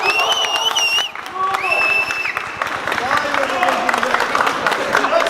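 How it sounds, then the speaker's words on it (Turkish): A group of people clap and cheer for a robot, steady applause with whoops and excited voices close by throughout the short burst. "kendimizi alkışlarken bulduk"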